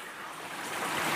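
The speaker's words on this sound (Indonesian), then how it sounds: "Lewati sungai seperti ini." River water rushes and splashes during a crossing on a mountain slope, a short broadband wash that swells in loudness toward the end, with no voices.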